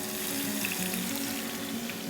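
Axis deer loin laid into a hot pan, giving a steady, close sizzle and hiss of frying that holds at an even level throughout with no talking.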